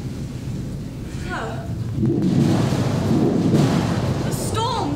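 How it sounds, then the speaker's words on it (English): A thunderstorm rolls on with steady heavy rain and a deep rumble of thunder that swells midway, while a voice briefly exclaims beneath it. "The storm seems to be subsiding."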